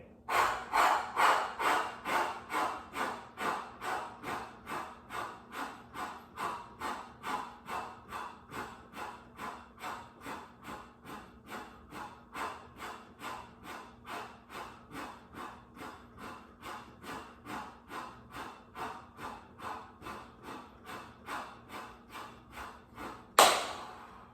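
Steady series of about sixty sharp, rhythmic exhale breaths during a yoga breathing exercise in a vinyasa practice, each puff evenly spaced and close, loudest at the start and gently fading, ending with a louder final breath.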